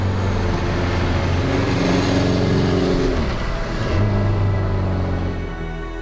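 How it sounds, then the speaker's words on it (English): A 2004 Suzuki GSX1400 with an air and oil-cooled four-cylinder engine revs up close and loud, climbing in pitch, easing off, then rising again in a second strong rev. "This air and oil-cooled 4-cylinder engine is Suzuki's largest manufactured GS motor ever built."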